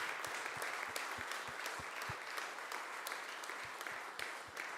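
A church congregation bursts into steady applause at the close of a worship service, a dense, continuous wash of many hands clapping at moderate distance, with sharper individual claps standing out.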